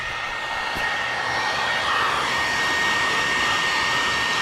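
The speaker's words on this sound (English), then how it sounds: "Just so I know subconsciously in the back of my mind how hot this heat gun is." A heat gun blows steadily on 5% and 20% carbon window tint film on a 2025 Kia Carnival, a loud continuous whooshing roar with a faint high whine, unbroken throughout and with no talking.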